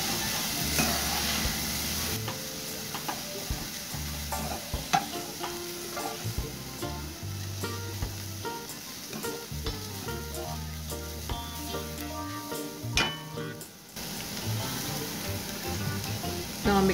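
Curry powder frying in oil in a pot on low heat for curry turkey wings, a close, continuous sizzle with intermittent stirring and scraping of a utensil against the pot.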